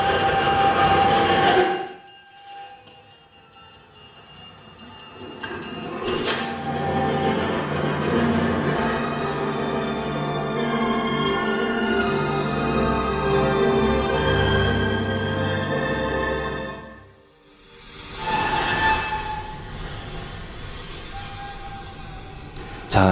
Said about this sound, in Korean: 이 기차는 여러 사람들이 타고 있는 거예요.